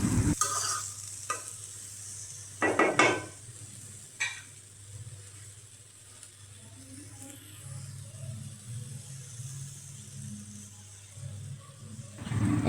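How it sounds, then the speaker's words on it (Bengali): Stirring a mixture of potato and catla fish roe in a pan over low heat. Utensil scrapes and knocks come early and late over a soft, steady sizzle. "অল্প আঁচে নাড়াচাড়া করতে হবে"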